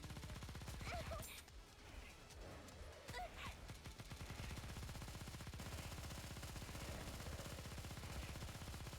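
Rapid automatic gunfire in the anime shooter game Nikke, a dense continuous stream of shots with brief bursts of louder blasts, loud throughout the whole stretch.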